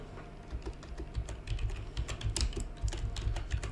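Keys clatter on a computer keyboard in quick, irregular bursts of close, crisp clicks that run continuously, fairly quiet, with no voice over them.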